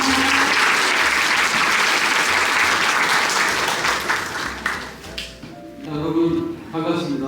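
Audience applause at a Korean-language program graduation ceremony at Sogang University: dense, loud clapping from a seated crowd that thins and breaks up toward the end as a few scattered claps and a tonal sound come through.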